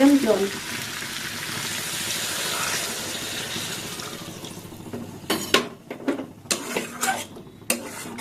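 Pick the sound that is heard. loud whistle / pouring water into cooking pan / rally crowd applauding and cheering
pouring water into cooking pan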